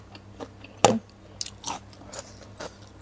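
Someone bites into a spicy Thai som tam-style salad and chews it. One sharp, close crunch comes first, then a few softer, wet chewing crunches in quiet surroundings.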